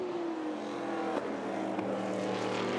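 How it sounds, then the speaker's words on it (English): Vintage sports racing cars at a motorsports reunion race, among them a Ferrari 550 and a Riley and Scott, howl past on track with steady engine tones and a quick passing sweep, moderately loud. "So these 2 cars are in position. We just saw the Bennett car. That just went past the Ferrari 550"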